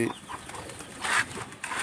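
Pigeons at a home loft give soft, brief coos and bird calls, faint against a busy outdoor background with light rustling.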